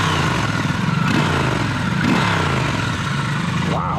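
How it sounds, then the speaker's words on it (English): A stock Triumph Scrambler 1200 motorcycle with high-mounted pipes rumbles loudly and steadily, its deep exhaust note swelling with a few throttle blips and gear changes, heard up close from the rider's position. "Wow, this thing's actually got some grunt to it. The exhaust note."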